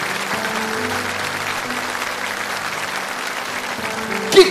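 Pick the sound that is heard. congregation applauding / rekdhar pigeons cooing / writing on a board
congregation applauding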